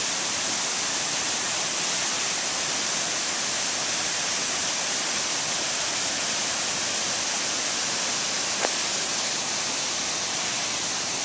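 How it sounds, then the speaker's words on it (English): Horsetail Falls in Keystone Canyon, Alaska, pours as a dense, steady roar of falling water, loud and unbroken for the whole stretch with no voices. "I'm going to turn back around and get another shot of Horsetail Falls. You actually hear the water."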